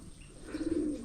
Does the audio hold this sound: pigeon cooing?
yes